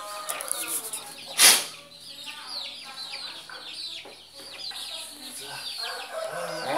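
Chickens with avian pox are heard in a poultry setting, clucking and chattering up close with one sharp, loud squawk early on, while a person talks faintly in the background.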